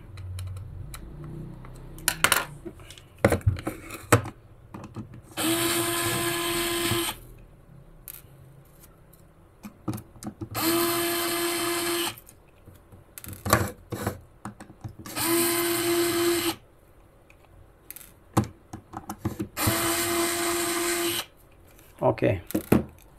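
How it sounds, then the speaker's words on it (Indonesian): An electric screwdriver whirs in four evenly spaced bursts while removing screws from a Canon camera lens, separated by small clicks and handling taps near the microphone. "Kita lepaskan 6 baut yang paling atas"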